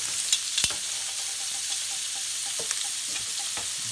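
A steak searing in hot butter in a pan, a steady bright sizzle with small spattering pops and occasional sharper crackles, close and constant with no voices.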